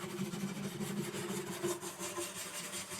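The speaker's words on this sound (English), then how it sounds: "I'm going to real lightly do those cracks." Wet 1200-grit sandpaper lightly rubs over cracks in the finish of a Taylor 314 acoustic guitar, making a steady, soft, continuous scuffing with no talk.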